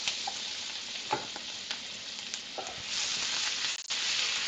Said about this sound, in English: I'm going to take a dollop of minced garlic.